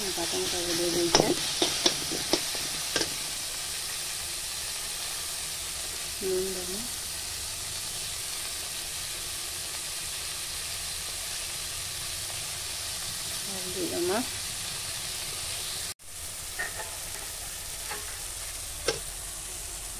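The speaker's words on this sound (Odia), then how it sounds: "ପିଆଜ ଭାଜି ହେଇଗଲା ପରେ ମୁଁ ପାତ ଦେଇ ଦେଇଛେ।" Onions frying in a pan for a home-style potato, chickpea and pointed gourd curry, a steady sizzle running throughout, with occasional stirring clinks and a few brief bursts of speech over it.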